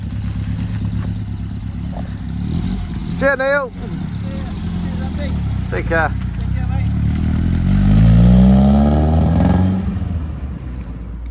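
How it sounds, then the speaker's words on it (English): A small classic car with a Hillman Imp engine revs up loudly and pulls away, its rising engine note building over several seconds after brief spoken farewells. "Look at that beautiful little car."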